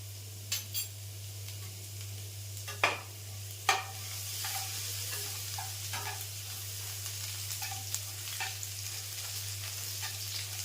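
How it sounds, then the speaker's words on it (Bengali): Chopped garlic and cumin frying gently in oil on low heat, a steady soft sizzle with occasional light clinks of a spoon stirring against the pan. "আস্তে রেখে রসুনটা ভাজতে হবে"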